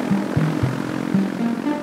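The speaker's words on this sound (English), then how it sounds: "This is a Pipistrel Alpha Electro." Electric propeller of a Pipistrel Alpha Electro plane, a close steady throbbing whir with pulsing tones that shift in pitch over a short burst.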